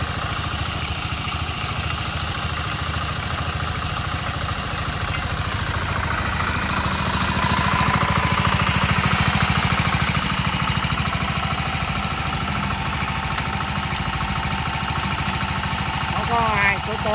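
A trench digging machine for burying farm water pipes runs with a steady, loud mechanical clatter and engine drone that holds throughout and swells slightly midway.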